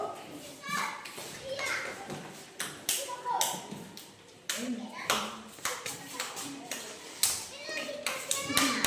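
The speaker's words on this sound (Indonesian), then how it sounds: "berikan tepuk tangan untuk kelompok 2" A classroom of children claps for a student group, a scattered run of hand claps and taps mixed with kids' chatter and shuffling, loud and close, with a teacher's voice cutting in.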